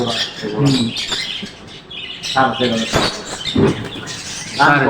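Pet birds in a bird shop squawk and chirp in repeated bursts that keep rising and falling, with a few close, sharp calls and people talking now and then in the background.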